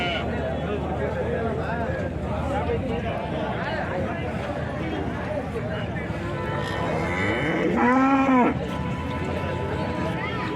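Cows at a rural cattle market in Chintamani, one clear, drawn-out moo rising near the end over a busy crowd of people talking throughout.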